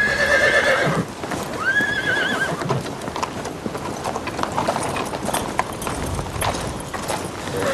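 A horse neighs loudly at the start, followed by repeated clip-clop of hooves and a second whinny in a period drama setting, with rustling background noise.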